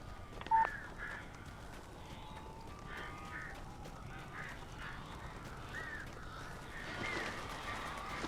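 Crows caw several times at a distance over a low ambient bed in the video game Alan Wake Remastered, the calls faint and spaced out with no talking.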